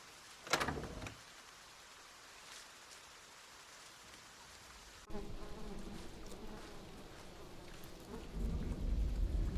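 Steady rain hisses throughout, with a sharp crack early on and a deep thunder rumble building toward the end; no one speaks.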